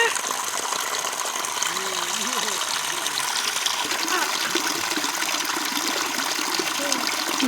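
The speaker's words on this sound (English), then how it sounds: "I'm going to take water from here." Water being collected from a stream on a family outing, a steady broadband rush and gush of flowing water running throughout, with some faint voices in the background.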